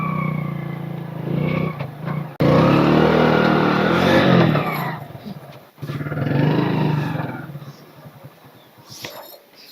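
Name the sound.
motor vehicle engine revving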